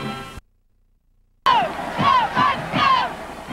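Standing-room-only football crowd at Tampa Stadium roaring and cheering in surging waves, loud and dense, with a sudden cut to near silence near the start before the noise returns full.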